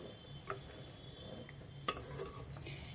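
Boondi curry simmers in a pot with tomatoes and onions, a soft bubbling hiss under a few light scrapes and clinks of a spoon being stirred, quiet and close.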